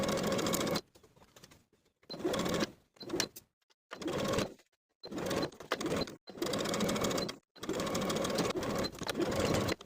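A sewing machine stitches a sleeve seam at a half-inch allowance in bursts of rapid, even whirring, stopping and starting several times with short quiet gaps between runs.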